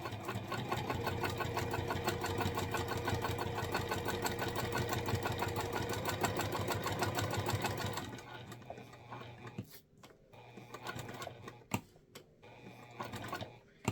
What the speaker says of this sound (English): I'm going to sew this at a 4mm stitch length